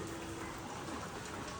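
Rain falls steadily outside a house in Surat, a dense, even hiss of drops hitting surfaces that holds at the same faint level throughout.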